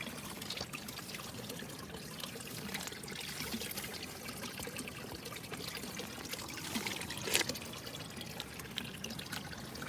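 Spring water from Mount Fuji trickles and pours at Fujinomiya, a faint, steady babbling flow heard from close by with no one talking.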